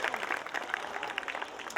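Steady applause from a school audience honouring students, dense and even throughout, with faint distant scattered claps and no talk over it.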